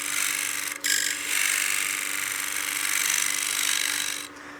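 A cutter shaving wood while turning a wooden coin box on a lathe, a continuous close hissing scrape with brief dropouts as the tool lifts away, the feed eased slowly into the base.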